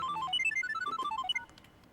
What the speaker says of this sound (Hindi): यार, इस वक्त किसका फोन आ गया?